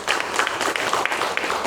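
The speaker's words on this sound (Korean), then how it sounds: "박수하겠습니다" A church congregation claps in welcome at a special worship service, brisk, fairly loud applause from many hands over a short stretch, with no talk over it.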